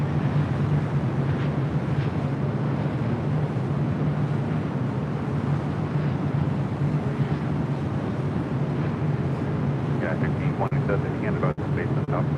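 Airliner on the London flight at LAX, heard as a steady, loud, broadband jet roar with wind rumble, and a person speaking over it.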